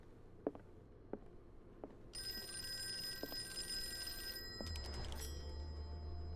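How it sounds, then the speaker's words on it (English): An old-style telephone bell rings steadily in a Call of Cthulhu video game, starting after a few soft footsteps or knocks and continuing loud and sustained, with a low hum entering near the end; no one talks. "I gotta wait for the phone to ring."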